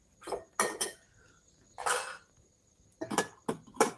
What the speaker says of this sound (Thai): ผมจะซอยหรือหั่นมะเขือเทศนี่ดีกว่า